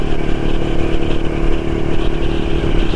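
Vintage CZ Jawa 353 motorcycle engine while riding, a loud, close, continuous two-stroke drone with rough clattering texture throughout.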